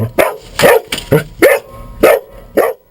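Search and rescue dogs from a disaster-response task force barking at a rubble search site, six loud sharp barks in a steady rhythm close by, with no talking.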